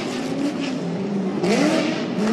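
A Ford Mustang drift car engine revs hard and repeatedly at a Formula Drift qualifying event in Long Beach, pitch rising and falling in aggressive bursts, loud and close with a raspy exhaust note.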